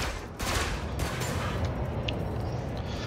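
Ship weapons fire in the space combat game Elite Dangerous, a steady dense stream of rapid shots and crackling impacts that runs continuously at moderate level.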